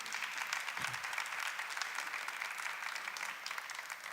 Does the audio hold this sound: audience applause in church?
yes